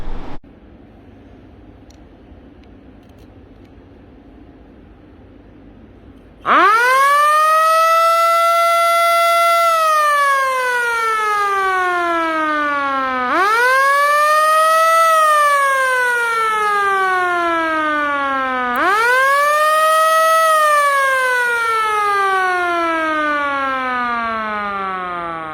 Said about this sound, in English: Got my siren on.